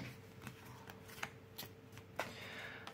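Tarot cards being shuffled by hand, with a string of soft, quick riffling flicks and light slaps at irregular intervals, close and fairly quiet, with no talking.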